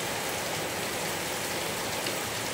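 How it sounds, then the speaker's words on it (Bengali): Heavy rain pours down without pause in West Midnapore during a stormy spell, a dense, even hiss close by and alone. "প্রচণ্ড বৃষ্টি হচ্ছে"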